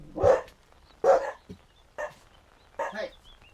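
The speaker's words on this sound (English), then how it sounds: "I don't need to bark when the dogs are barking for me" Dogs bark in short separate bursts, about five woofs spread over a few seconds with brief pauses between them, fairly close and alone without talk.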